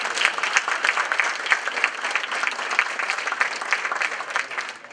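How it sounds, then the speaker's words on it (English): Staff at an LDI kickoff opening session give each other a round of applause, a steady, dense clapping from many hands that fades slightly at the end. "let's give each other a round of applause"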